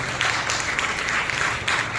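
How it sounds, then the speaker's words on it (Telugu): A church congregation at a New Year service in Nellore bursts into loud, sustained applause, dense clapping filling the space steadily for the whole stretch. "బిగ్గరగా చప్పట్లు కొట్టి ప్రభువుని మహిమపరచండి"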